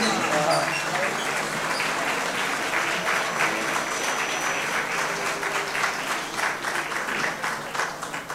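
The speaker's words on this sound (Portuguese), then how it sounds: "Um grande aplauso para eles." A carnival crowd on Terceira applauds a performing group, a long, dense wave of clapping holding steady throughout, with faint voices mixed in.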